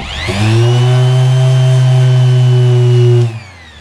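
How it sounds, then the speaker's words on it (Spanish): A power sander works a car body panel during a BMW E36 engine-bay swap project, its motor humming as one steady, close drone for about three seconds before spinning down, with no talk. "la abrimos bien con la lijadora"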